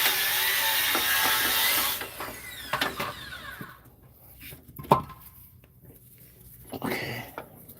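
A hand ratchet clicks while bolts are loosened to remove the leaf springs on a 1977 Dodge Tradesman RV's one-ton axle. A loud hiss comes first, then sparse close ratcheting clicks and clanks at a moderate level.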